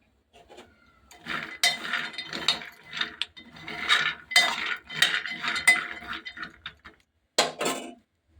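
Raw peanuts are stirred in a pan over high heat, giving repeated dry rattling and scraping bursts that come in uneven waves with short pauses.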